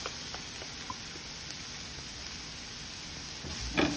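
Garlic frying in olive oil for a salt cod pasta, a steady soft sizzle held at an even level throughout, with a slight swell and crackle near the end.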